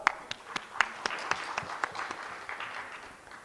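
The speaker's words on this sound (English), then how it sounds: "A round of applause for her." Sparse, separate hand claps at an official engineering program launch, forming a thin, uneven patter of modest loudness for a few seconds.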